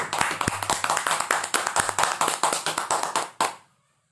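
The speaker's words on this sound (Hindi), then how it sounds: "एक जोरदार ताली हो जाए" Audience clapping at a business success-story event in India, a run of crisp, fairly close hand claps in a steady uneven patter that ends abruptly after about three and a half seconds.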